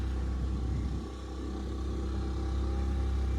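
A motor boat carrying six people chugs along the Poovar backwaters in Kerala, its engine droning steadily and loudly up close with a low rumbling hum and no talk.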